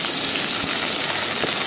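Garlic hitting hot oil for a homemade bamboo shoot pickle gives a steady, close, loud sizzle with bubbly crackle throughout the short stretch, with no talking.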